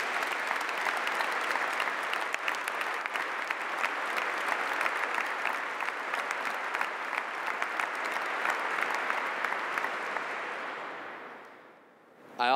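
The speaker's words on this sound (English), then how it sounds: "I ask that everyone please give DeMatha's teachers a round of applause" An audience at the 2012 DeMatha commencement applauds the school's teachers, with long, even clapping from a large crowd that holds steady, then fades out near the end.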